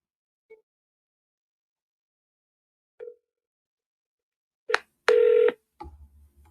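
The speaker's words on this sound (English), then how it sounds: "let me know if you guys can hear that phone ring" A phone is dialed and rings: a few faint, sparse tones, then a burst of louder dialing tones and a sustained ringing tone, followed by a low hum.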